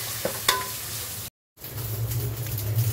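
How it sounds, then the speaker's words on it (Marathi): Crab masala stir-fried in oil, a close frying sizzle with a couple of spoon clicks, a brief complete dropout midway, then the sizzle resumes louder and steady. "याला चांगलं तेल सुटेपर्यंत परतून घेऊया."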